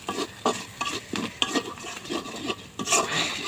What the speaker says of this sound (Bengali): এগুলো ভালো করে লাড়ে ছেড়ে নেব